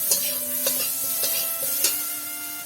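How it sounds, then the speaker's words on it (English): Hog plum and green chilies fry in a cooking pot over village heat, a steady sizzle broken by a few rhythmic stirring scrapes, close up with no voices. "and stir it for some time,"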